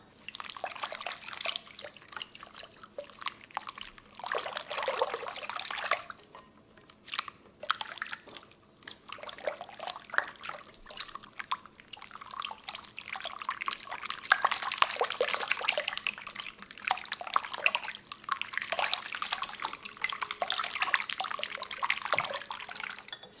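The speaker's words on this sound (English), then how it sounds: "once you add your yeast, you're going to mix it in here. Let me get my whisk." A whisk stirs yeast into water in a bowl for cinnamon roll dough, giving faint, quick, wet swishing and light clinking in irregular bursts close by.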